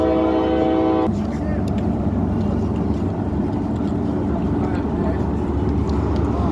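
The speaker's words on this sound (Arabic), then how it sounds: "قطار 986 القائم من القاهرة متجه إلى الأقصر" Passenger train 986 from Cairo to Luxor sounds a sustained horn blast for about a second, then rumbles past loud and steady over the station noise.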